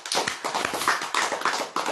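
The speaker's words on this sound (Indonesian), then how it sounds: "Tepuk tangan." A crowd at an Indonesian religious lecture claps hands together on cue: a dense, steady patter of many claps, fairly close and continuous for the whole stretch.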